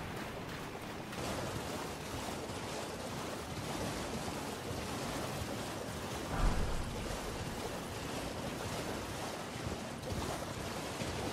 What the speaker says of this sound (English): Doesn't seem like there's enough water in this reservoir up here to create this much of a waterfall.